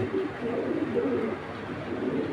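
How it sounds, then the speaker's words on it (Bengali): Racing pigeons give a soft, continuous cooing, close and steady throughout with no talk. "দেখেন কবুতর দুইটা এত সুন্দর"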